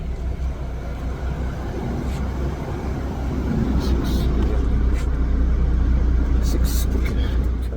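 Low engine rumble of a bus heard from inside, a steady loud drone that swells slightly midway, with faint higher rattles above it.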